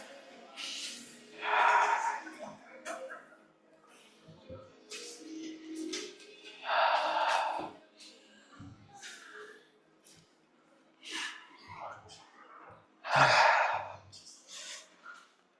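Guided breathing exercise during a self-shiatsu movement class: three strong, breathy exhalations stand out at irregular intervals, with quieter, quicker breaths between them, close and unaccompanied by talk.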